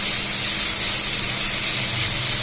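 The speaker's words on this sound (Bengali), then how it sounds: "তো আদা রসুনটা ভালো করে আমি একটু কষে নেবো যাতে আদা রসুনের কাঁচা গন্ধটা চলে যায়" Ginger garlic paste frying in a pan for a Bengali prawn and kochur loti dish, a steady close hissing sizzle that runs without break and without talk.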